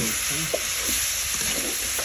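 Broiler chicken frying in a little mustard oil gives a steady close sizzle with a few soft stirring scrapes, while a voice says a brief word over it.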